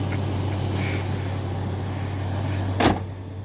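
A 260,000-mile Jeep Grand Cherokee ZJ with a 4-liter engine and a bad clutch is driven, its low, steady engine drone heard from inside the cabin, with a brief knock near the end.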